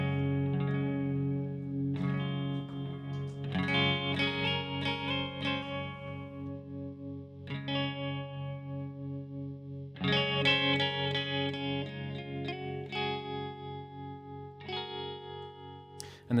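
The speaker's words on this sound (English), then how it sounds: "That sounds like some reverb." A sustained pedal steel guitar plays gliding, layered chords drenched in reverb and a chorus-like shimmer, with new swells rising every few seconds, clear and alone.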